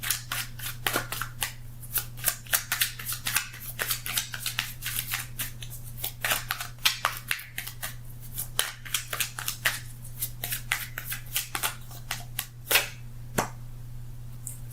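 Tarot cards being shuffled and pulled, a rapid run of crisp snapping and riffling clicks over a steady low hum, close and fairly quiet.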